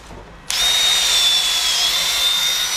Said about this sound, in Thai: อันนี้ก็โหมดคอร์สนะครับโหมดกระแทกเดี๋ยวผมลองเจาะแซมเปิลให้ดูก่อนแล้วกัน